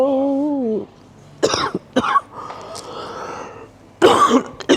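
Someone coughs several times in short, harsh bursts with quiet gaps between, close to the microphone, after a brief tonal sound at the start.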